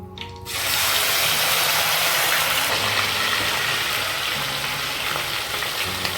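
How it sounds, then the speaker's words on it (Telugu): Pieces of boiled chicken hitting hot oil for a coconut chicken fry, a loud steady broadband sizzle that bursts up after a brief quieter start and keeps crackling close and unbroken to the end, with no talk. "సో మనం బాయిల్ చేసి పెట్టుకున్న ఈ చికెన్ని ఈ ఆయిల్, హీట్ అయిన ఆయిల్లో కొంచెం కొంచెంగా వేసుకుని ఫ్రై చేసుకోవాలి"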